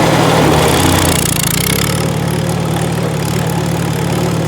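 A Farmall Super A tractor engine runs loud and close with a slipping clutch during a third-gear takeoff, a steady chugging drone that shifts in tone partway through.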